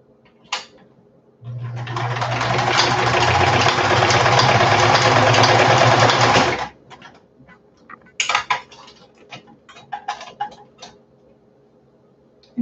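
A home sewing machine stitches through felt in one loud continuous whirring run of about five seconds, with a few sharp clicks and taps from handling the machine before and after.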